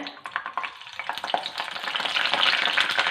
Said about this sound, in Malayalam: ഇനി അത് വറുത്ത് കോരി എടുക്കാമേ